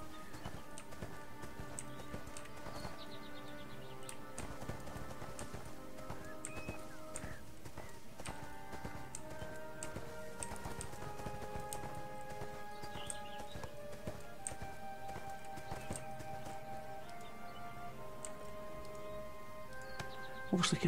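Horse hooves clip-clop steadily while riding in the MMO ArcheAge during its 2014 closed beta, a continuous trotting rhythm under layered game music, with an occasional whinny and no talking.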